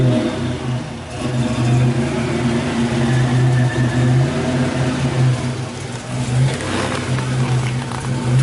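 A Buick Grand National's 3.8 engine idles close by with a steady, even low hum and a faint whirring layer, holding constant without revving.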